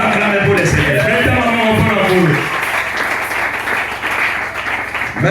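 A church congregation applauds at an ordination service, steady clapping from many people filling about three seconds after a loud spoken exhortation.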